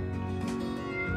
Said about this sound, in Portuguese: Deixa eu soltar minha gata, que ela tá miando aqui.